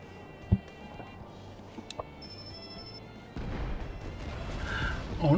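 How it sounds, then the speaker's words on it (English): Explosions in the video game Final Fantasy XIV: a sharp distant boom and a few smaller pops over quiet ambience, then a sustained low rumbling roar of battle that swells toward the end. "Oh no, they're explosions, not fireworks."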